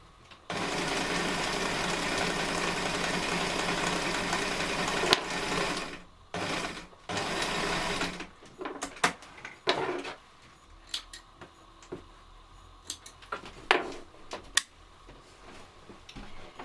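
A sewing machine stitches the layers of a reusable cloth sanitary pad, running in a steady loud whir for about five seconds, then in shorter start-stop bursts, followed by brief clicks and handling noises.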